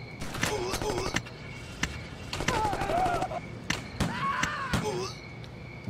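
Gangsters shot down in the video game Gangsters 2: Vendetta, with sharp bursts of gunfire in quick repeated volleys over someone talking throughout.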